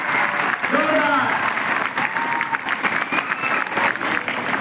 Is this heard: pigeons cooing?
no